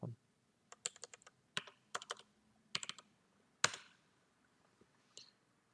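A computer keyboard is typed on in short clusters of sharp, close clicks separated by brief pauses, ending with a single harder keystroke and a faint last tap, with no talking.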